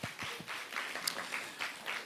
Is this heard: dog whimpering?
no